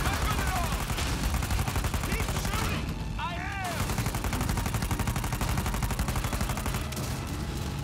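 Gunfire aimed at an armored tank in Uncharted 4: A Thief's End, a dense, continuous stream of rapid shots that keeps up under other in-game sounds, with a short high chirping burst in the middle.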